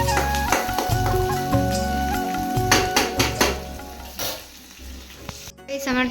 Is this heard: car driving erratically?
no